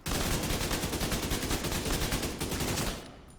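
Rapid automatic gunfire from a weapon in The Division 2 shooter game, a dense, loud, steady stream of shots lasting about three seconds before cutting off with a short tail.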